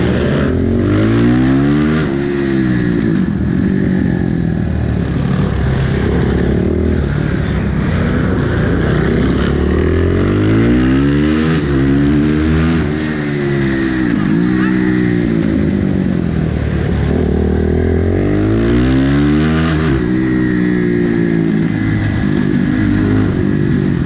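A motorcycle in an urban street race revs hard and continuously, the engine pitch sweeping up and down through repeated gear changes and throttle bursts, loud and close for the whole stretch with no talk.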